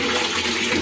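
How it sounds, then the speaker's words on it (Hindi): Water gushes steadily into a container during household cleaning, a loud continuous rushing splash with no break across the short moment. "पानी भर रही है"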